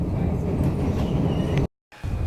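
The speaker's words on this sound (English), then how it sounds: "going on the elevated train, on the L" A Chicago elevated L train rumbles loudly along its track above the streets, a steady close roar that cuts out abruptly near the end and then resumes.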